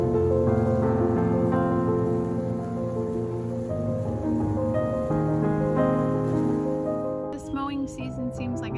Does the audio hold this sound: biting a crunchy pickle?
no